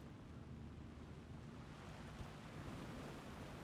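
Water in the Alan Wake 2 video game, a steady low rushing wash like distant surf or flowing water, faint and continuous, with no breaks and no voices.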